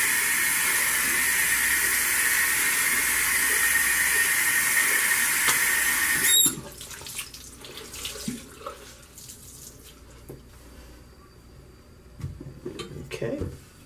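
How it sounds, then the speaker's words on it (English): Water runs steadily from a tap for several seconds while something is rinsed, a loud continuous hiss that cuts off abruptly, leaving faint handling clatter and a few small sounds afterward. "And we're gonna rinse."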